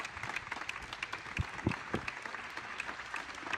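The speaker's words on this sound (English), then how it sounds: "Let's give another round of applause to our amazing," A crowd applauding steadily at a Blue Origin post-flight press conference, a dense wash of clapping with a few low thumps partway through, moderately distant.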